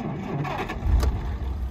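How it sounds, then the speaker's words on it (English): A 1947 Plymouth engine cranks and catches, with a brief rough burst and low rumble around the midpoint settling into a quiet idle, heard fairly faintly with some background noise. "it'll fire right up and stay idling"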